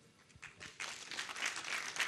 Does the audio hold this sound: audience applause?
yes